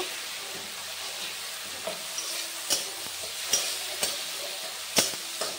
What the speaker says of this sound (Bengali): এই অবস্থায় এর মধ্যে আমি ওই সর্ষে পোস্ত বাটাটা দিয়ে দেব